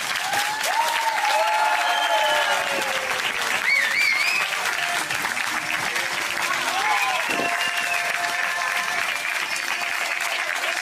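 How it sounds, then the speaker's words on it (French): Wedding guests applaud the newly married couple loudly and continuously after the kiss, with cheers, whoops and excited voices rising above the dense clapping. "on peut les applaudir très très très très fort"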